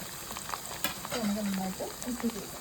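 Onions and curry leaves sautéing in oil for a fish curry, a soft, low sizzle with faint stirring clinks and scrapes, quiet and close.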